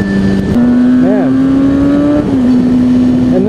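A Kawasaki 636 sport motorcycle engine revs hard and loud up close, its steady high whine climbing through gears with brief shifts in pitch.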